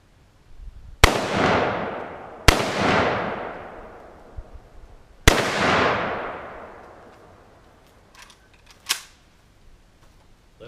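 Three loud gunshots from a handgun loaded with hollow point ammunition, fired outdoors in a backyard, each sharp crack followed by a long decaying echo, with a fainter click and snap afterward and no talking.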